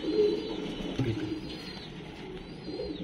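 Kasni pigeon, a small brown bird of an inherited breed, cooing nearby in soft low repeated phrases over steady background hum, with no talking.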